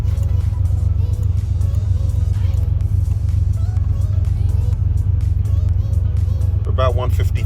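A Buick Grand National engine idles at operating temperature after a rebuild, a steady low rumble with a faint rhythmic clatter, loud and close throughout, while someone talks over it.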